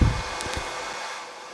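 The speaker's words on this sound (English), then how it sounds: "let me start a hairdryer in the background" A hair dryer's steady airy hiss runs briefly, with a couple of soft clicks near the start before it fades slightly.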